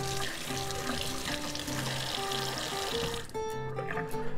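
Running water from a tap splashes steadily over a fountain pen converter being rinsed, a continuous hiss that quiets briefly near the end, with soft background music throughout.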